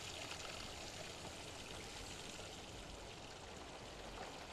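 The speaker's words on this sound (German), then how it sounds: "Das Wasser läuft hier immer noch." Running water in the horror game Fobia St. Dinfna Hotel, a soft, even stream pouring continuously at low volume with no voices.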